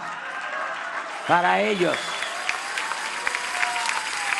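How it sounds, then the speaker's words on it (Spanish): Audience applause at a presidential event opening the Leyes de Reforma cultural centre, steady crowd clapping heard under a voice, which rises briefly over it. "Un aplauso"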